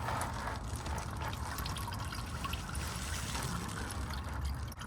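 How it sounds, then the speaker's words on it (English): Engine oil drains from a 2023 Toyota RAV4 LE AWD during its first oil change, a steady close trickling pour with a continuous liquid splash and no talk. "So let it drip until it almost dripped out."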